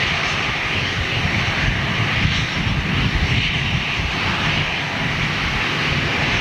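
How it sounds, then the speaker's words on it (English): An ex-Brussels airliner in a new livery makes a flyby, its engine roar broad and steady from start to finish, loud and close with no talk over it. "It's a Flyby with a new livery"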